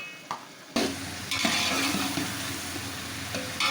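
Masala with chicken sizzles and is stirred in a pan during chicken Chinese pulao cooking, a steady frying hiss with stirring scrapes that starts after a quiet moment and continues loudly to the end.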